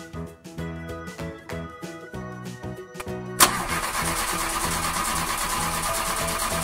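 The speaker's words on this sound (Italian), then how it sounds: "Ok, accendiamo la macchina e andiamo." An old small cartoon car's engine cranks with a series of rhythmic chugging turns over background music, then bursts into a loud, steady running roar that holds to the end.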